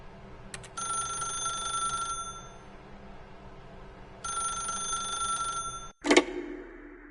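A telephone rings in The Stanley Parable, two loud bursts of ringing separated by a pause, followed by a short click as the receiver is picked up.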